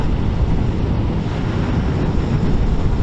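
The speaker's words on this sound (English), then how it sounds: "like the wind is hitting me in the middle of the chest" Steady, heavy wind roar buffets a rider on a 2022 KTM RC390 motorcycle, a loud, unbroken low rumble of air hitting the helmet and chest throughout, with no speech.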